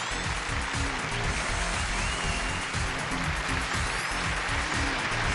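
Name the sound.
studio audience applause welcoming guest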